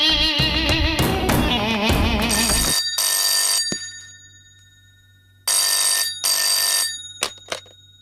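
A telephone rings at a police station in a sequence of bright electronic trills with pauses between them, following a brief burst of busy music, loud and close.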